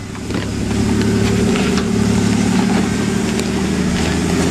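An off-road vehicle on 35-inch-plus tires claws up out of a ravine on Slip Lock Trail in Sand Hollow, Utah, its engine droning loud, close and steady throughout.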